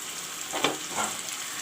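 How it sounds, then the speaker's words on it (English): Chicken and potatoes fry together in a pan for a dry chicken curry, a steady hiss of sizzling with a couple of brief surges as the pieces are stirred, close and alone without talk. "I will even put in the potatoes also. It will fry along with the chicken."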